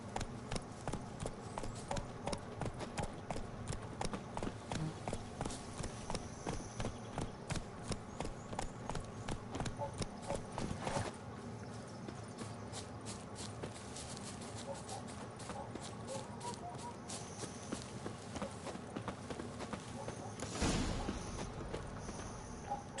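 Roach, the horse in The Witcher 3, clip-clops along in a steady rapid rhythm of hoofbeats on the ground for a long stretch, briefly easing then picking up again.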